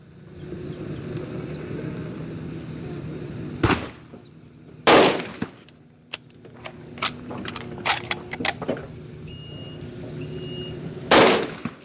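A 450 Bushmaster scout rifle fires at an outdoor range east of San Antonio, with three loud, well-spaced shots standing out over a steady background hum and scattered sharp clicks and clatter between them.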